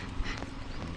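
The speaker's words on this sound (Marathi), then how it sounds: "मोठी बैलगाडी आहे." Bullock cart hooves clop on a village road, a quick, muffled patter of steps over steady outdoor rumble in a brief moment.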